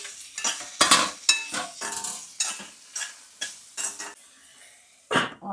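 Onions and tomato pieces stirred in a pan, a series of irregular scraping, clinking strokes of a utensil against metal over a faint sizzle, close and moderately loud with short pauses between strokes.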